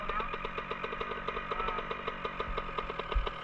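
A Yamaha dirt bike engine runs at a steady, rapid rhythmic putter, close and fairly loud, with a brief thump near the end and no clear talk.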